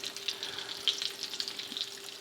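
Three pieces of chicken fried steak sizzle in a pan at medium-high heat, a steady crackling fry with small pops, fairly quiet and alone.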